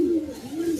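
A caged pigeon coos close by, a brief low soft warbling call repeated twice in quick succession.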